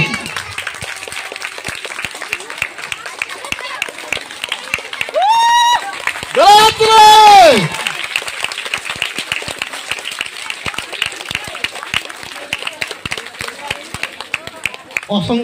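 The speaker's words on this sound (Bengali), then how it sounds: "সবাই হাততালি দাও।" An audience claps continuously through a yoga competition in Bengal. Steady, fairly close applause carries a brief interruption of loud voiced calls or cheering in the middle.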